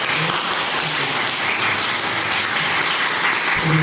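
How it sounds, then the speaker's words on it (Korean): A church congregation claps to welcome newcomers at Sunday worship, a loud, even, sustained patter of many hands with no talk over it. "우리 박수 행사하시고"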